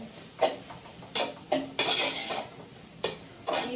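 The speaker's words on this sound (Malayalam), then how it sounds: "ഇളക്കി കൊടുക്കട്ടെ" Food stirred in a cooking pot on a low flame: a spoon scrapes and knocks against the pot in irregular strokes, close and moderately loud, with quiet gaps between them and no talking.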